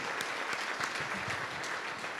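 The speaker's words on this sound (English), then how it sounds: "Give him a round of applause." Steady applause from an audience at an evening event, dense and continuous clapping held at an even level throughout.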